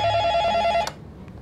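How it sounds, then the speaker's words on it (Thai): A telephone bell rings in a steady, bright electronic trill for most of a second, then cuts off abruptly, leaving a quiet room with faint background noise. "เสียงโทรศัพท์เด้อเอามา"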